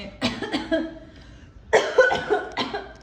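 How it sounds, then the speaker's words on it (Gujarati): A person coughs indoors in two close bursts, a short cluster of coughs followed after a brief pause by a louder series, with no talking. "આટલા દિવસથી ઉધરસ આવે"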